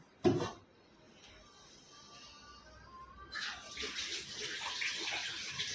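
Rice washed in water for biryani: a sharp knock opens, then quiet kitchen sounds before water starts running and splashing steadily and fairly loudly toward the end.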